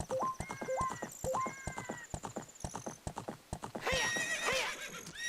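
A horse in The Legend of Zelda: Ocarina of Time (3DS Master Quest) whinnies loudly while its hooves clip-clop in a steady, rapid rhythm, the neighs repeating over the galloping beat.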